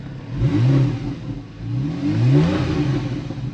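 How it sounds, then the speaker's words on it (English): Porsche 911 Carrera S Cabriolet 991.1 with PDK gearbox and sport exhaust, revved twice while stationary, each blip rising and falling in pitch over a steady idle, close and fairly loud. "let me just rev it slightly so you can hear"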